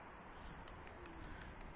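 Dolapçı tumbler pigeons coo softly inside a coop, low throaty calls repeating over a faint background.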